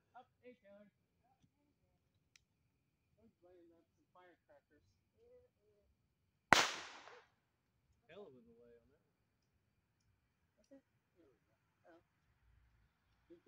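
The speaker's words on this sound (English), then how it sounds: "Those are bottle rockets too." A single bottle rocket goes off outdoors with a sharp, sudden crack and a brief hiss, followed by scattered voices talking quietly nearby.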